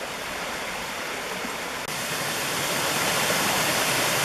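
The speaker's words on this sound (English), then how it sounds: "So I'm going to assume that's a waterfalls." A waterfall in the Lake George Wild Forest, a dense continuous roar of falling water that grows slightly louder partway through, with no voices.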